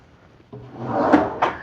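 A wooden drawer in a Palms Las Vegas hotel room slides open or shut, starting as a soft rumbling glide and ending in two sharp knocks close by.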